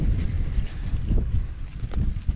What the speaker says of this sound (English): It is another windy day here in North Dakota, so hopefully you guys can hear me pretty well.